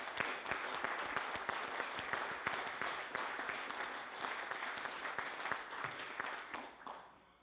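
Sustained applause in a House of Assembly chamber for budget preparation staff, a dense patter of many hands at moderate level that holds steady and then fades out at the end.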